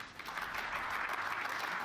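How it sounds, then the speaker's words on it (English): Sparse, modest applause from a political audience, a few scattered claps blending into a soft wash that runs for under two seconds at moderate distance, with no voices over it. "his calls received only a few supportive claps"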